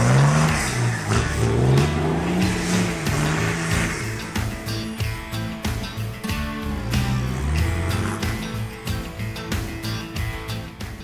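Nissan Navara 4WD engine revving hard as it climbs a sand dune hill at Ahipara, New Zealand, the note surging and falling through repeated throttle bursts, loud and close with no talk.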